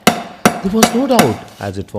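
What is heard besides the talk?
hammer strokes from an iron mill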